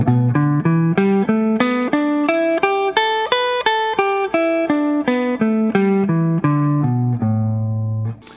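Electric guitar picks out a pentatonic scale with the minor third swapped for a major second, about fifteen clean, evenly spaced single notes climbing and descending, ending on a sustained low note, played alone.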